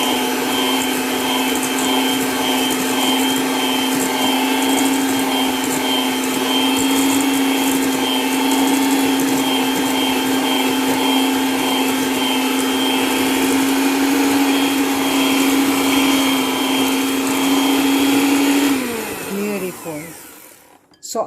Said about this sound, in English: Then we are going to beat this using our small mixer.